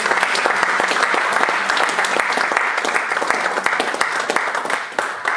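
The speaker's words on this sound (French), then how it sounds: "Est-ce qu'on peut acclamer très fort?" A church congregation in Paris breaks into loud, sustained applause, many hands clapping at once in a thick, even roar that holds steady before easing slightly at the end.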